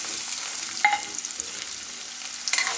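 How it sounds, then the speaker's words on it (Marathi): Chopped onion with a garlic, ginger, coriander and coconut paste and cumin sautés quietly in a pan: a soft, even sizzle broken by a couple of light scraping clicks from the stirring spoon. "छान हलवून परतून घ्यायचे"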